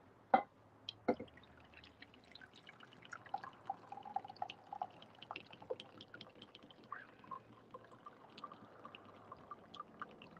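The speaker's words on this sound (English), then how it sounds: "we're going to pour some hot coffee" Hot coffee being poured, heard as a faint, steady trickle of liquid with scattered drips and small clinks, close by and quiet, with no talking.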